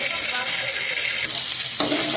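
Tempering spices with curry leaves sizzle loudly in hot oil for mango-ginger pickle, a dense continuous crackle that abruptly thins and shifts near the end, with no talk.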